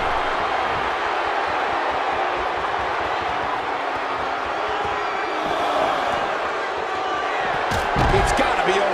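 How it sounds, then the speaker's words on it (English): A large wrestling arena crowd in the WWE 2K16 video game, during a Rikishi versus Mr. Black match in Pittsburgh, roars in a dense, steady wall of noise, with a brief louder thud near the end. "you can bet this crowd is fired up for this match"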